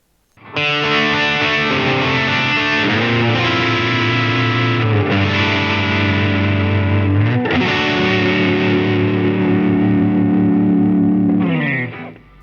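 Distorted electric guitar chords from a Jet JS400 with a GFS humbucker pickup ring out loud and thick with bright sparkle, sustaining for several seconds between changes, then fading at the end.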